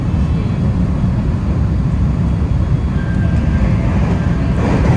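IR Ishikawa Railway rapid train rushing through a station without stopping, a steady loud low rumble of wheels and rails with a faint high tone entering near the end.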